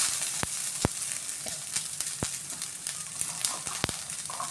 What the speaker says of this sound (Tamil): இந்த பதினஞ்சு வெங்காயத்தையும் சின்ன வெங்காயத்தையும் சேர்த்து நல்லா வதக்கி எடுக்கணும்